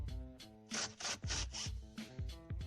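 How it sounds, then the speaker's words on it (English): Two 10mm bolts are worked loose from a 2014-2016 Toyota Highlander dashboard, giving quiet, rapid rhythmic ratcheting strokes close by with brief pauses between runs. "I'm gonna go ahead and take these two 10mm bolts out right here"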